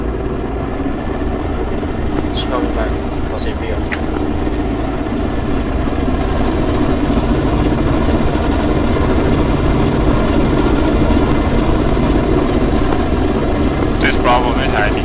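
Helicopter in the ArmA military video game, a steady close rotor drone throbbing continuously throughout while radio-style voices talk over it.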